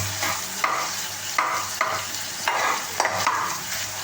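Onions fry and are stirred in a pan while cooking a French beans fry. Close, steady sizzling pulses with rhythmic scraping sweeps about every half second, and no one speaks.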